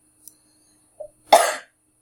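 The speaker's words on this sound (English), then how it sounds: "Stop coughing." One harsh, close cough from a person who is unwell, preceded by a couple of faint clicks and small throat sounds in an otherwise quiet room.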